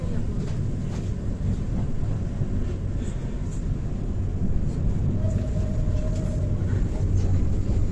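A passenger train on the route to Riga rumbles across a bridge with a steady, loud low roar and rattle, heard from inside the carriage with a faint squeal partway through.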